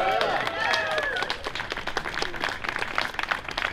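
A crowd at a faculty and staff rally for Palestine applauds the Ceasefire Choir, scattered claps spreading into a dense ovation, with voices and cheers mixed in close by.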